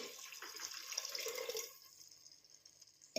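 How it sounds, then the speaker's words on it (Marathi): A short splash of water poured in a steady stream into a pot of rice, close by, then stopping, leaving faint background hiss. "ते पाणी टाकल्याच्या नंतर आपल्याला अजून पाणी टाकून घ्यायचं आहे"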